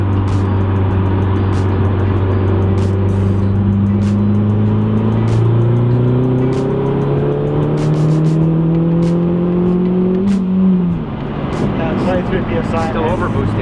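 A Mazdaspeed 3's turbocharged engine, running a detuned map with the wastegate zeroed, revs up while overboosting, its drone rising steadily in pitch over several seconds before dropping off, loud and close.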